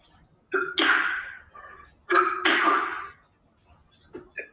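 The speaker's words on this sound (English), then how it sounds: "It's a dry cough, though." Two harsh, dry coughing fits close to the microphone, each a short burst of hacking, followed by quieter breaths.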